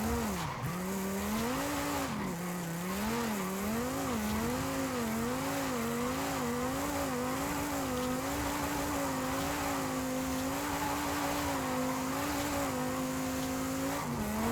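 A hard-to-handle car is driven in the racing game Forza Horizon 5, moving from off-road onto tarmac. Its engine drones steadily and its pitch wavers up and down over a constant hiss of tire and road noise.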